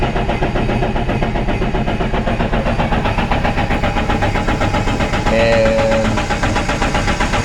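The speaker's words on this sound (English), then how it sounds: "we're going to hold down the throttle, and then we're going to go ahead and start up the engine just for probably about 10 or 15 seconds" A Sea-Doo Switch boat's engine runs with the throttle held down in drown mode during an oil change, a loud, steady mechanical churn close by, with a brief higher tone near the end and one short spoken word.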